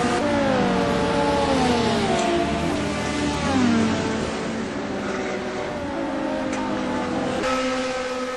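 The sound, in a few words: BMW race car driving on a track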